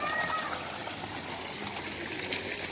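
Water drains and flows away from a swimming pool at an outdoor camp in Bongabon, Nueva Ecija, a steady broadband rushing wash that stays even and continuous throughout, with no talking.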